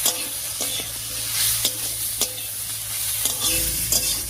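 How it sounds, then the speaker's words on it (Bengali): Chopped onion and pointed gourd fry together in hot oil with kalonji, garlic and green chillies, a steady sizzle broken by repeated sharp scrapes of a spatula stirring the pan, with no talking. "এবার পেঁয়াজ আর পটলটা একসঙ্গে করে ভেজে নিচ্ছি"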